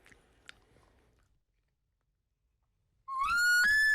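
A hand call imitates an elk bull's cow-style bugle: a single loud, rising whistle with bright harmonics that begins after a quiet stretch, ending in a brief grunting break.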